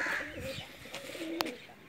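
Soft, low cooing from a Pakistani flying pigeon nearby, a few brief murmured calls with a sharp click partway through.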